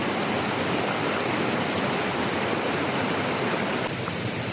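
An icy mountain stream rushes near Kasol village in the Himachal mountains, a loud, continuous broadband wash of flowing water that stays steady throughout, with no voices.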